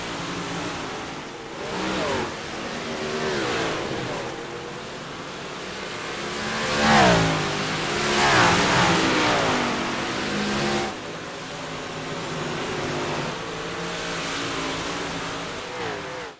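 Big block modified race cars roar around the Eldora dirt oval, engines droning loud and steady with rising and falling revs as cars pass close, continuous through the clip.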